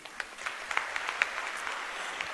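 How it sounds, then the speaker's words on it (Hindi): A group of students applauding: steady, moderately distant clapping with a few sharper individual claps standing out, and no talk over it. "स्टूडेंट्स को तो तालियां बजानी चाहिए"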